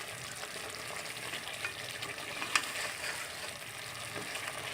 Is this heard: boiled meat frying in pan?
yes